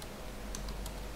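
A few quick keystrokes on a computer keyboard, faint clicks over a steady background hum, no talking.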